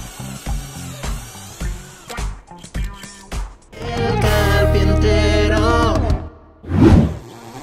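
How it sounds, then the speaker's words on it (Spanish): A Bosch 12V heavy-duty brushless drill fitted with a Forstner bit is run in short bursts, then spins up into one sustained loud whine for a couple of seconds before stopping, with a final brief rev. "Probamos con broca tipo Forstner para ver el desempeño del taladro."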